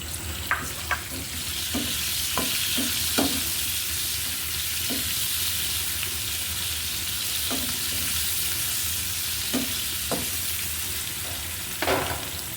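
Eggs and potatoes frying in oil in a pan, loud continuous sizzling with repeated scraping stirs and knocks of the spatula scattered throughout, no talking.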